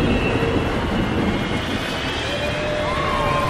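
A roller coaster train rolls along its track in the Planet Coaster video game, a steady broadband rumble of wheels and rails that runs unbroken and fairly loud, with faint thin whistling tones laid over it.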